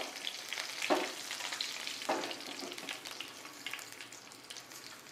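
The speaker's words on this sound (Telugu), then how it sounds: "ఈ పోపు వేగాక పచ్చిమిర్చి చీలకలు వేస్తున్నాను" Tempering spices and slit green chillies fry in hot oil, giving a steady close sizzle and crackle with a few louder bursts as they are stirred. No voices are heard.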